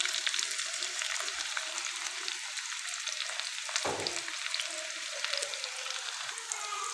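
Two medium onions fry in a pan until browned, a continuous crackling sizzle with occasional stirring scrapes, steady and fairly close with no talk.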